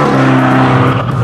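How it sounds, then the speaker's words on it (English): An Abarth 595 Competizione with a turbocharged 1.4 litre four-cylinder and Monza exhaust roars loudly and steadily under load, a continuous close engine and exhaust drone on a track. "it's got an exhaust that does a lot of shouting. This Monza exhaust is brilliant."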